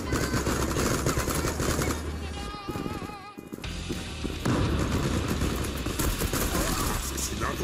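Dense, loud gunfire in the shooter game Zula, rapid shots and booms nearly continuous, mixed with game sounds and a voice speaking over it.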